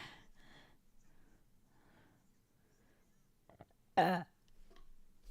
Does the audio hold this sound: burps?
yes